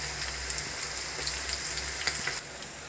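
Spring onion bonda batter dropped into hot oil, sizzling and frying steadily with scattered crackling pops, fairly quiet and close, with no talk.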